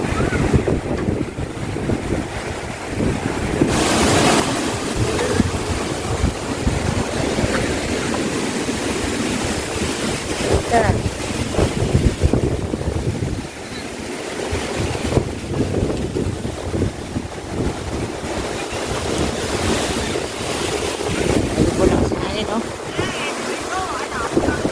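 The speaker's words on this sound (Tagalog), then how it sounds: "Malakas po yung hangin." Strong typhoon wind roars steadily and loudly among bamboo, buffeting the microphone in heavy gusts with a constant rushing noise throughout.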